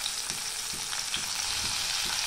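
Chopped tomatoes and onions sizzle steadily in hot oil in a pan for a dhaba-style paneer tikka masala, with soft regular thumps of a spoon stirring every half second under the constant frying hiss.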